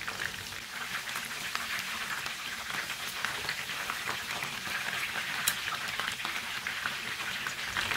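Malai chicken kandi kebabs fry in a pan over a low flame, giving off a steady, even sizzle with soft crackles and pops that runs through the whole stretch without any voice.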